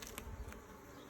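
Close, steady buzzing from Carniolan honey bees during a hive inspection, a droning hum with a couple of brief louder passes.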